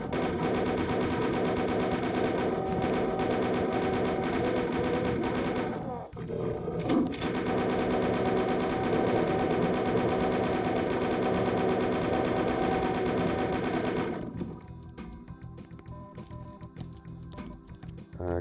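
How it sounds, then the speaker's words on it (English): Rapid chaingun fire in Doom II, a dense, continuous mechanical rattle mowing down enemies, loud and steady for most of the stretch with one brief break, then dropping to quieter game sounds near the end. "I do think it's cool that you get the chain gun just as you have to mow down loads of low-level enemies."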